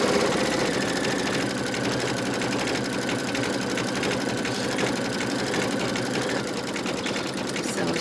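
A machine embroidering a honeybee coaster sews its final outline stitch in a steady, rapid, close-up mechanical chatter that runs evenly for the whole stretch with no pauses.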